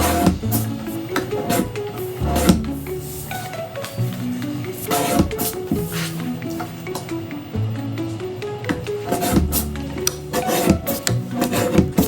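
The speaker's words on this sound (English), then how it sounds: "Just using the forbidden toenail clipper, aka the corner rounder" A corner rounder punch trims the corners of cards in a small studio, a run of repeated crunching and scraping presses spaced a few seconds apart, close and moderately loud, with no speech.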